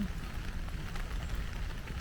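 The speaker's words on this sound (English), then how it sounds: "it started to rain more" Steady rain falls outdoors during a road trip through Luxembourg, a faint continuous patter and hiss with a low rumble underneath and no clear voices.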